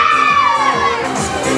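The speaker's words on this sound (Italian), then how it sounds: "Allora, ragazze, il vostro urlo da Padova, 1, 2, 3" A group of girls loudly shouting their team cheer together at the Palio di Sant'Agata, a brief, close, high-pitched collective yell rising and falling over about a second and a half.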